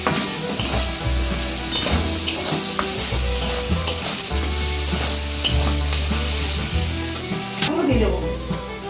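Fish head and peanuts sautéing in a hot pan, a loud continuous sizzle and frying crackle with repeated scraping strokes of a spatula, close by and without talk.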